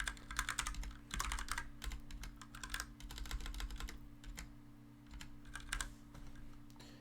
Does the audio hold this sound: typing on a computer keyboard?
yes